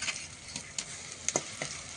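Crushed garlic frying in oil in a pan for a goat meat curry, a soft steady sizzle with a few scattered utensil scrapes and clicks, close and moderately quiet, no talking.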